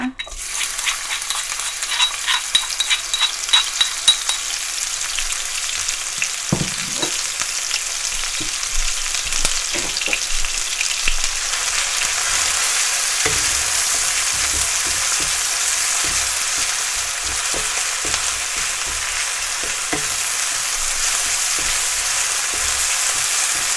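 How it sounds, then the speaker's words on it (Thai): Garlic and shallots fry in a pan for Korat-style stir-fried rice noodles, a steady broadband sizzle with occasional spatula scrapes and clinks, close and continuous, growing denser and louder after the first several seconds. "เดี๋ยวเราเจียวกระเทียมกับหอมแดงก่อนนะคะ"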